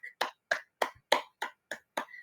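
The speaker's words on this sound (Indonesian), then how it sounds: "Kita tepuk tangan untuk jawaban-jawaban dari anak" Children in a classroom clap for classmates' answers in eight sharp, evenly spaced bursts, crisp and close like a rhythmic group clap pattern rather than loose applause.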